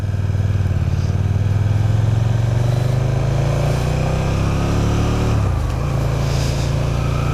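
A KTM Super Duke 1290R, a 1301cc V-twin motorcycle, rides with a loud, steady engine drone. The pitch climbs gradually, then drops sharply near the end before settling into a lower steady hum.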